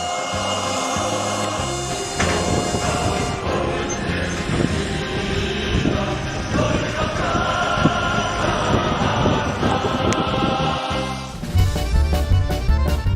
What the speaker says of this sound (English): we're leaving on a one-car train to go to the North Korean camps